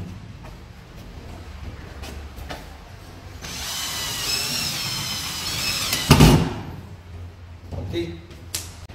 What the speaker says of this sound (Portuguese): Agora eu vou com um parafuso 35 milímetros,